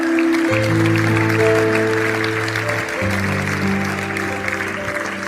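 Congregation clapping at a church service, a diffuse patter of many hands running beneath loud sustained keyboard chords that shift partway through, with no voices.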